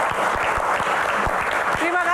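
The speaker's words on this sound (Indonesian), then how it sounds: "Tepuk tangan." Audience applause at a film Q&A session, steady dense clapping filling the room at moderate loudness, with a few low thumps and a brief tonal sound near the end.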